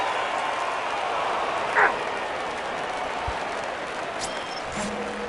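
A home crowd cheers and applauds steadily at a stadium in the baseball video game The Show 19, a broad continuous roar with a few brief clicks and knocks over it.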